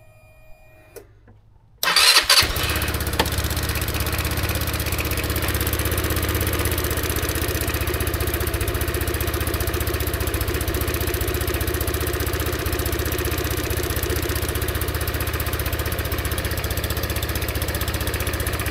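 A GY6-type 200cc engine on an X-Pro Saipan 200 scooter cranks briefly after a quiet start, catches, and settles into a steady, loud idle that runs alone for the rest of the clip.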